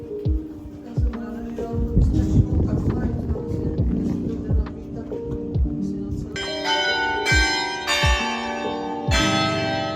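Carillon bells of a church in Brno, Czech Republic ring out in a layered peal, heavy strikes overlapping with brighter higher bells joining partway through, resonant and sustained.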